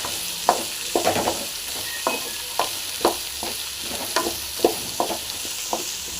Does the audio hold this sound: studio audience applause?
no